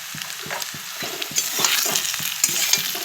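A spoon stirs turmeric and salt into a rohu fish curry with potato and green banana, making rhythmic scraping strokes against the pan over a steady frying sizzle, close and clear, with no speech.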